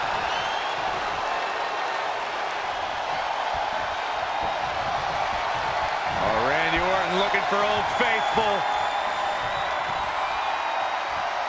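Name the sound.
crowd roaring in WWE 2K20 video game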